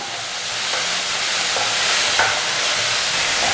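Restaurant-style egg fried rice sizzles loudly in a pan as it is stirred with soy sauce, a steady close hiss with faint scrapes of the utensil.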